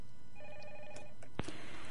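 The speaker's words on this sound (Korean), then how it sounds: "전화 왔네." A telephone rings faintly in a short burst of repeated electronic trills during a radio broadcast, followed by a sharp click and quiet room tone.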